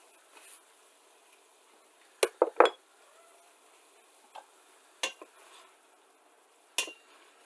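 A utensil stirs a pan of sauce seasoned with Maggi sauce and soy sauce, giving a few sparse, quiet clinks and scrapes against the metal in otherwise near silence.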